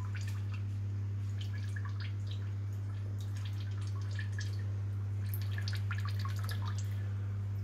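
A homemade moonshine still drips distillate in soft, irregular patters over a constant low electrical hum, close and faint, with no talk.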